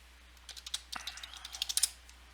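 Quick bursts of keystrokes on a computer keyboard, a dozen or so light clicks clustered in a short flurry, close but fairly quiet, with no talking.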